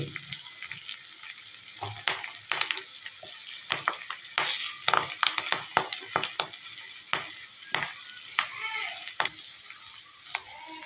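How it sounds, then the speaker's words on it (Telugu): Curry leaves crackle and sizzle in hot oil while being stirred for chicken pachadi, with steady frying hiss broken by frequent sharp spattering pops and scraping stirs, close and moderately loud, no talking. "కొంచెం కరివేపాకు కూడా వేసుకుంటున్నామండి"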